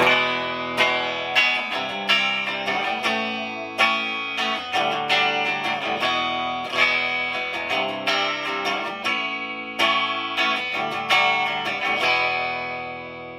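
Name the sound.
electric guitar, single coil bridge pickup with 60-cycle hum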